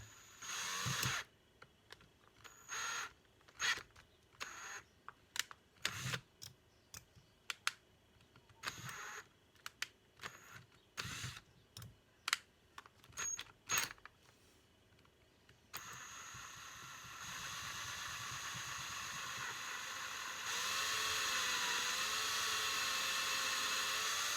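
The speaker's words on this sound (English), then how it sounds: "Right, that's drilled down into that gently." An electric drill whirs in short, stop-start bursts up close, then runs steadily and loudly for the last several seconds, drilling a hole during a Honda CL350 carburetor rebuild.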